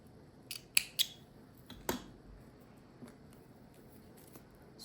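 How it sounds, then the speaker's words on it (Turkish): Scissors snip glittery yarn during crochet bag-making, giving a few sharp close metallic clicks in quick succession, then a single louder cut and a faint later snip against a quiet background. "Şu Ben bu noktadayken şu simli ipi keseceğim."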